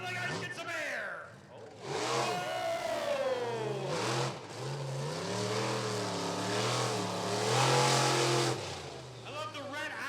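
The Tailgater monster truck revs its engine loudly during a freestyle run at Rockford Speedway. The engine note rises and falls in long, rough surges, and an announcer talks over it.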